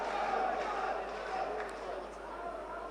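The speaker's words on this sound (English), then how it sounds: "You can hear his crowd now urging him on, spurring him on." A boxing crowd cheers and roars continuously, urging a fighter on during a ten-round bout, a broad steady wash of noise from the arena.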